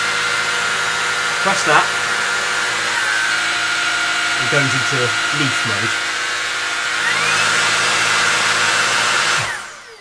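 Shark Stratos Pet Pro cordless vacuum motor running loud and steady, with a higher whine rising as it cycles into a stronger power mode near the end, then cutting off; someone talks briefly over it.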